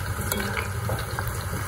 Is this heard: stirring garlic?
yes